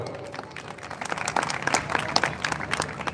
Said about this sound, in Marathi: तुम्ही एकदा जोरदार टाळ्या होऊन जातील मित्रांनो